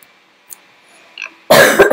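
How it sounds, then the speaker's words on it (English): A sharp, close cough bursts out after a couple of faint clicks, loud and raspy, lasting about half a second. "Please excuse my coughing"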